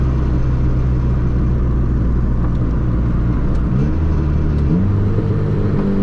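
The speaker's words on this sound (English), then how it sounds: "That was a clean downshift rev match." Turbocharged Honda Civic EG engine running steadily under load, with its pitch stepping up sharply as a downshift blip rev-matches the gears, heard close from inside the car with no talking.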